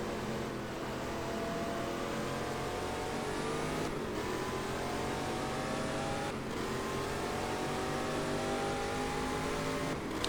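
Race car engines in the GT Legends sim racing game, including a Shelby among slower traffic: a steady, loud engine drone with pitch climbing through gears and two sharp gearshift breaks.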